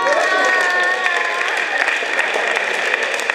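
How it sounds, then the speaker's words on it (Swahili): A church or classroom audience claps together in a sustained round of applause, fairly close and steady, with bright ringing tones running underneath. "Tuwapigie makofi jamani."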